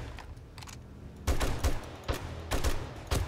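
Gunfire in the video game 7 Days To Die: several sharp bursts of shots crack out in quick clusters over a quiet background, with no voices.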